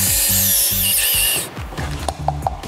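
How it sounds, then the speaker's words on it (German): A power drill fitted with a hole saw bites through a wooden board in loud, pulsing bursts of whining motor and rough cutting, then stops, followed by a few knocks and rubbing sounds as the cut piece is handled. "da setze ich jetzt den Bohrer an, hier die Lochsäge, ziehe einmal durch."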